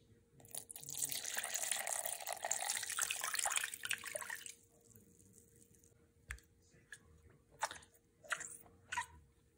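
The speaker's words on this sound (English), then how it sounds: "I'm going to add 350 grams of warm, baby bottle warm water" Warm water pours onto sourdough starter in a bowl, a steady splashing stream for about four seconds before stopping, followed by a few quiet clinks and handling noises.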